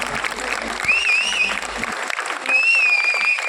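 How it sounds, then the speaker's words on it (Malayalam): A celebration audience claps loudly and steadily throughout, a dense wash of applause with crowd noise and brief voices over it. "നല്ലൊരു കൈയടി കൊടുത്തേ."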